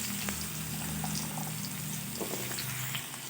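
Sweet pumpkin pieces tipped into a hot frying pan where aubergine was just fried, giving a steady close sizzle and bubbling hiss of oil that holds throughout with small crackles.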